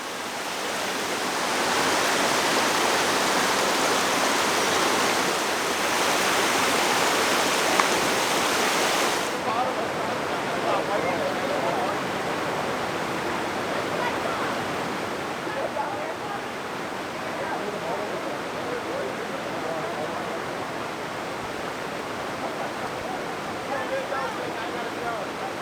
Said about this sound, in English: And here is the upper falls.